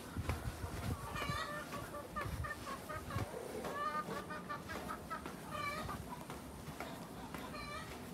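Several chickens in a home garden cluck and chatter together in a steady, busy flock, with layered calls continuing throughout at moderate volume.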